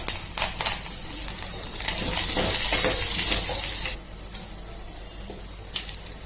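Curry leaves crackle in hot oil for a tempering in a home kitchen pan, with light clatter that swells into a louder sizzle midway before dropping back to faint pops, no voices.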